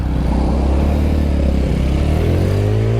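A 2024 TVS Radeon 110cc motorcycle pulls away in first gear, its engine loud and close, the drone rising steadily in pitch as it accelerates, with no talk over it.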